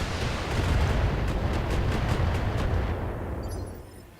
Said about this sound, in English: Precision strike with missiles it is.